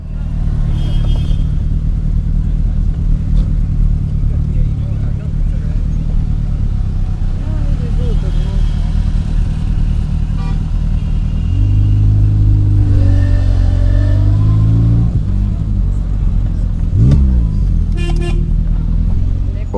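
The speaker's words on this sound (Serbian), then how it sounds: "Ovdje još uvijek Fića pod gasom zvuči dobro, malo brunda kao što sam rekao zbog toga auspuha" Zastava 750 (Fića) oldtimer car, with a droning exhaust, revving at a car meet: a steady low engine rumble that climbs in pitch under throttle, with someone talking over it and a brief horn toot near the end.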